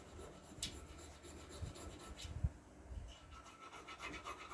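Soft, irregular rubbing and scraping strokes polishing a hand-forged 10-inch knife blade, close and quiet, with a few sharper scratches along the way.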